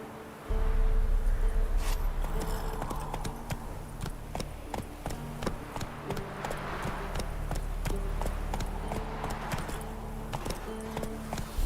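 Horse hooves galloping in The Witcher 3, a steady rhythmic clip-clop of hoofbeats that starts suddenly and continues throughout, fairly close, over a low constant background hum and soft ambient music.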